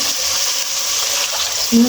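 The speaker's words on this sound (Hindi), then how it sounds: "मैं इसमें सादा पानी ऐड करूँगी, जो मैं 1 कप ऐड करूँगी।" Steady pouring of a cup of water into a pot, a continuous hiss-like splash running throughout with a brief low thump near the end.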